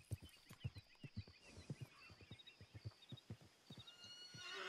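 In Red Dead Redemption 2, a horse trots with a steady clip-clop of hooves and lets out a whinny. It plays quietly and alone, with no talk over it.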